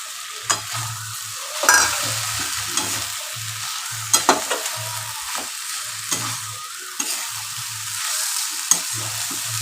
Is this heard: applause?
no